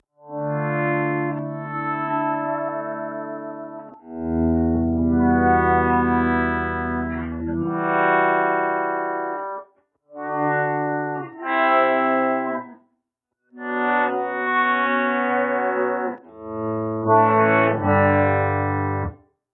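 Guitar through an EHX Pico Attack Decay pedal in poly mode with the fat sugar setting off, playing phrases of swelling, sustained chords separated by short gaps, with faint artifacts on the notes; no voices.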